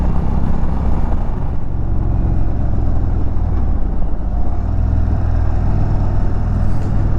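An Indian touring motorcycle, a 2023 model, rolls through a roundabout with a steady, loud engine drone and wind rush that stay close and even throughout, with no talking.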